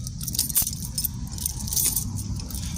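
A bunch of keys jangles and clinks close by in a parking lot at night, bright metallic rattles coming in short bursts over a low background hum.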